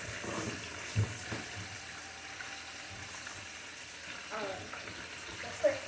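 Chicken wings frying in grease, half submerged in a pot, giving a faint, steady sizzle with a few soft clatters and knocks of kitchen handling, quiet throughout.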